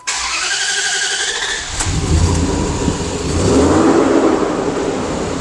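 A 2005 Dodge Dakota with a rough idle cranks and catches, its engine settling into a loud, steady, uneven idle that swells slightly near the end, with no talk.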